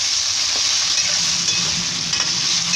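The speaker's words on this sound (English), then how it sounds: "we're going for the stir fry here. Nice and hot oil." Stir fry frying in hot oil in a pan, a steady loud sizzle with soft scraping and stirring sounds throughout, no talking.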